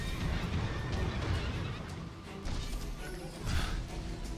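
A horse whinnies in the Stranger of Paradise video game, a moderately loud neigh over busy game ambience with clattering and whooshing effects, no talking.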